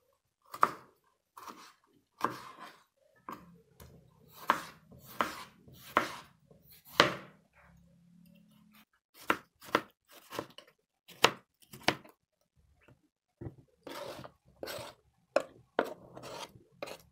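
A knife chops through green tomatoes on a cutting board in quick irregular bursts of crisp strokes, with short pauses between runs, close and clear.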